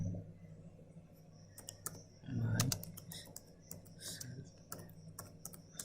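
Quiet, close clicking of someone typing a message on a computer keyboard, in uneven bursts of keystrokes. A brief low murmur of speech comes through partway.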